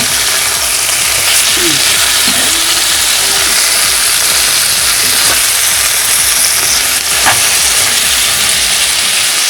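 Koi fish pakora fries in plenty of mustard oil, a loud, continuous hissing sizzle that stays even and close throughout, with no talking.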